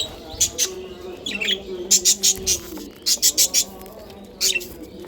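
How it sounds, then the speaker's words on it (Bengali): Young pet birds in a backyard colony chirp in quick bursts of sharp, high calls, clustered in short rhythmic runs over a low background murmur, close to the listener. "এই হচ্ছে ভিওর আমার পাখিগুলো"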